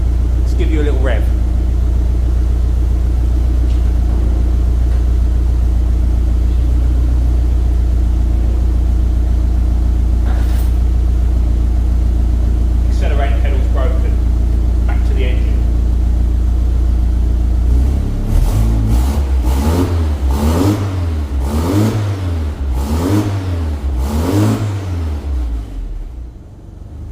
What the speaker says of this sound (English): Let's give you a little rev.